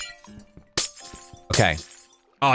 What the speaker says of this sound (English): Oh, placing glass is so weird.